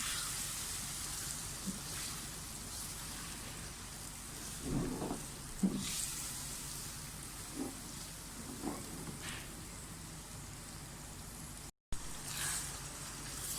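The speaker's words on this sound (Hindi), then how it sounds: "तमाम मसाला चिकन के साथ अच्छी तरह से भून गया है।" Chicken cooked with spice masala and tomato puree in a pan, a steady faint sizzle and crackle with occasional soft stirring scrapes and clinks, no talking.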